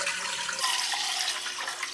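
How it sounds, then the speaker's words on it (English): Water runs from a tap into the biggest cooking pot in the kitchen while making shrimp cocktail, a steady, bright hissing splash filling the pot at close range, continuous and uninterrupted for two seconds. "So we're gonna go ahead and put some water in there."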